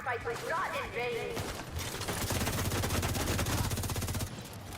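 Rapid cannon and gunfire from a naval combat video game, a steady rattling volley of shots under a person talking, fairly loud throughout.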